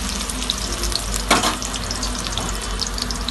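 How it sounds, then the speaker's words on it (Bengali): Chopped onion sizzles loudly in hot oil while being stirred, a steady close frying hiss broken by scraping stirs around a pan for a pumpkin and small fish dish. "তেলটা গরম হয়ে গেছে, এবার পেঁয়াজ কুচিটা দিয়ে দেবো। একটু নাড়াচাড়া করে"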